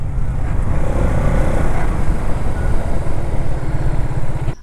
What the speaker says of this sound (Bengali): সবচেয়ে জোস হচ্ছে এটার সাউন্ড, এক্সজস্টের সাউন্ড